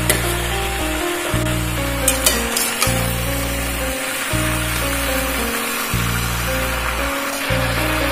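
Red chilli powder, cumin powder, turmeric and sugar frying in a pan with vegetables for Bengali pui shak with hilsa head: a loud, steady sizzle with brief stirring scrapes, interrupted by a few short quiet gaps.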